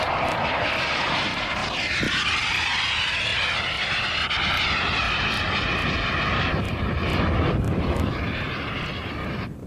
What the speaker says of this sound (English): At full power, the engine's spinning some 5 or 8 times faster than a model propeller engine